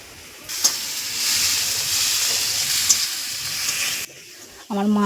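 Fish curry sizzles in a home kitchen as a mother cooks, a steady hissing frying sound that starts abruptly and holds for several seconds, then cuts off as a voice begins.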